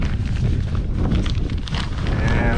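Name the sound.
wind blowing outdoors into the microphone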